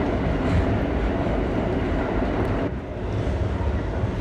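An R32 GE subway car runs on the F line, giving a loud, continuous rumble and rattle of wheels on track with faint clatter and a brief dip partway through, heard from inside.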